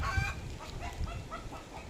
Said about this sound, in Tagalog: Uy, may umiitlog na manok.